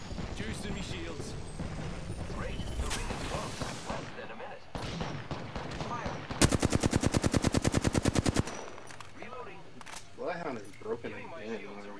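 Bursts of gunfire in Apex Legends, scattered shots and impacts under excited voices, then a loud, rapid sustained volley of about two seconds before chatter and effects resume.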